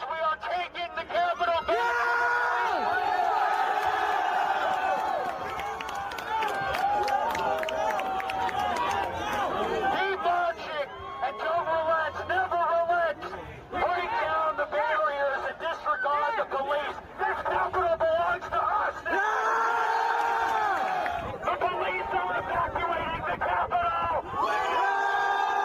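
Crowd yelling and chanting during the January 6th riot, a dense, continuous roar of many voices with rising shouts and cries filling the whole stretch, loud and unbroken.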